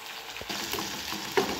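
Chopped tomatoes cooking in a pan for a beetroot fry, a soft, close sizzle and bubbling with a small stir or clink near the end, brief and steady with no talking.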